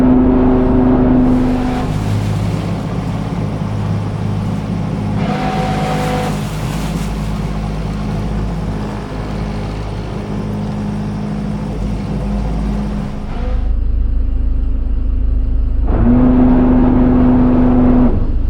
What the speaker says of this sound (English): Starboard engine into reverse, port engine into forward.